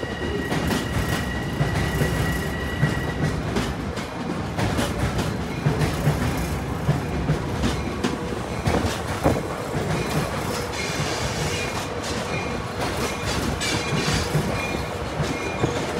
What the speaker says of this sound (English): an outbound M7A set and an inbound diesel set arriving. Here, both trains traverse the complex junction and pass Jamaica Tower.